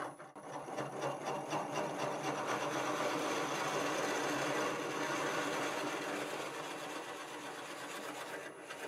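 A drill bit about an inch and a quarter across bores steadily into very hard hackberry wood turning on a lathe, giving a continuous close grinding whir that holds level for the whole stretch, with no talk.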